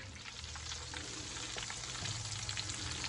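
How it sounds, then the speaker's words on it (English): Mustard chicken pieces coated in cornmeal fry in hot grease with a dense, continuous sizzle and fine crackling, close and steady throughout, with no talking. "once I drop them in the grease"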